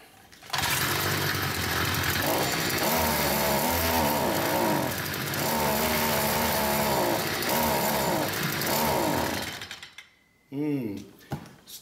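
A small engine runs steadily and loudly for about ten seconds, its pitch wavering slightly in a rough, uneven drone, then cuts off abruptly near the end with a brief sputter.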